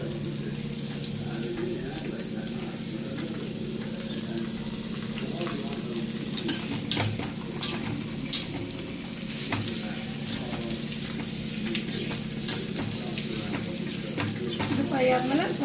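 Oil and butter sizzle steadily in a pan while masala for paneer butter masala is fried and stirred, with occasional scraping clinks of a spoon against the pan throughout, fairly close and continuous.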